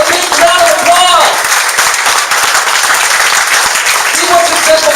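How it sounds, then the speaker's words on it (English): Audience at a Silicon Valley business launch event breaks into a big round of steady applause, dense clapping filling the room for the whole stretch, with a voice briefly heard over it. "give these people a big round of applause."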